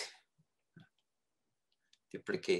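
Sparse, faint mouse clicks from operating 3D character modeling software, a couple of soft isolated taps in near silence, followed by a voice speaking at the end.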